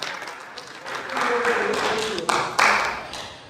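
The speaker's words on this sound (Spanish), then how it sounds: "Denle un aplauso al Señor." Applause in a church congregation swells from scattered claps into a fuller burst of clapping, with voices mixed in.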